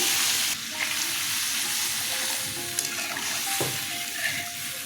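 Water poured into a hot pan of oil for a thin fish curry sends up a loud, steady sizzle and hiss that rolls on for several seconds, with a few light stirring scrapes and clinks mixed in.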